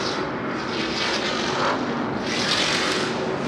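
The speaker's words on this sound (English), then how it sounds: "You can hear a quick breathe of the throttle out of Ben Mayer" A racing truck engine roars steadily during practice and qualifying at Long Beach, a loud sustained drone with a slight swell near the end as the throttle is blipped.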